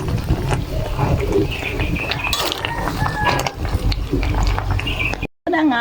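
A large pork leg (pata) boils in a pot, giving a dense, loud bubbling and rattling with a voice mixed in, before cutting off abruptly near the end.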